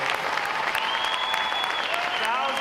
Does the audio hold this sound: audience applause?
yes